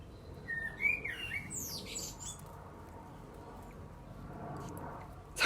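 A small pet bird lets out a few sharp squawks and chirps after grabbing a shiny metal spanner, brief, close calls near the start against a quiet indoor background.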